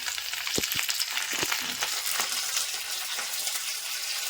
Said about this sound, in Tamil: இப்போ வந்து வெங்காயம் போட்டுக்கலாம் வெங்காயம் கருவேப்பிலை